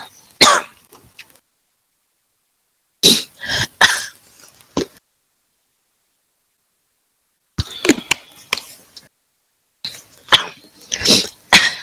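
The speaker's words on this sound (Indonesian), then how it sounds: "kenapa batuk ya?" Several bursts of coughing in separate clusters, close and fairly loud, with silent gaps between them and no talking.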